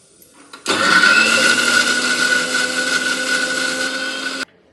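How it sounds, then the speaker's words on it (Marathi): An electric mixer grinder whirs up to a loud, steady whine as it grinds a chutney paste with garlic and salt, running for about four seconds at close range before cutting off abruptly. "मिक्सरला लावून घेते आता।"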